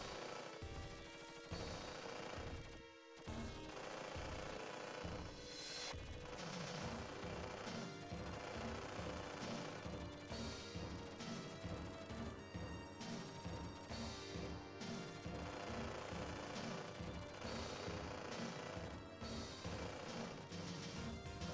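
Rapid machine-gun fire in the 1991 Data East Robocop 2 arcade game, a dense continuous rattle of shots layered over loud game music and crashing effects, nearly unbroken throughout.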